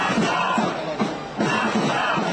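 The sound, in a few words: crowd chanting at rally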